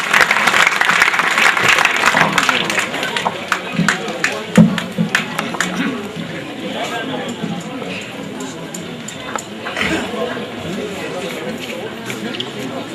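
An audience at a school silver jubilee ceremony claps loudly and steadily, the applause dense at first and then thinning out across the hall, with voices mixed in.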